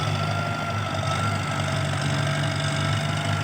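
A Kubota M70 tractor engine runs steadily while pushing soil at a pond-edge worksite, a continuous low droning hum with no breaks, fairly loud and alone without voices.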